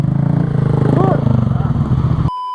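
Yamaha MT-07 motorcycle labouring as it pulls away, a loud close engine drone with a rough pulsing throb that cuts off abruptly near the end.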